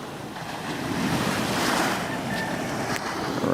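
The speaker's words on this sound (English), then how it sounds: "It's the sound of these waves, gentle waves crashing." Gentle ocean waves break and wash onto a beach in a steady, continuous surge that swells slightly midway, with some wind buffeting the microphone and no voices.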